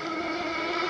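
Small nitro engine of a Proboat 1/12 scale RC hydroplane with a modified carburetor, running on its first run, a steady high-pitched buzzing drone, close and constant for under a second.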